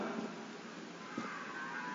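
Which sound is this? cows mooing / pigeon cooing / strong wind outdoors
cows mooing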